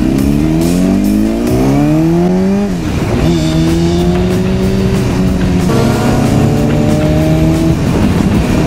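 A Kawasaki motorcycle engine revs hard on a night ride, loud and close, its pitch climbing through gear changes with brief drops between each acceleration.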